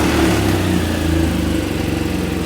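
A BMW R1200R motorcycle engine idles steadily at close range, a loud, continuous low throb with an even pulsing rhythm and no talk over it.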